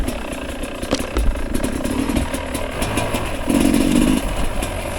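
A 2021 Sherco 300 SE Factory dirt bike engine runs nearby with a steady mid-pitched idle and uneven clattering burble, briefly swelling louder near the end.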